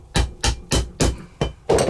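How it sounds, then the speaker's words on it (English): A rivet set tool hammered onto a copper rivet in a bridle leather belt: six loud, close, evenly spaced metallic blows about a quarter second apart, each with a short ringing decay. "So I'm using a rivet set tool now"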